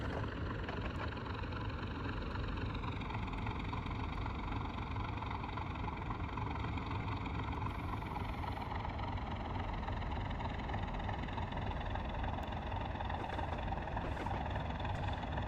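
A train engine on the Settle to Carlisle line, with throttle applied to hold 30, drones in a steady, continuous low rumble that stays close and even throughout, with no voices.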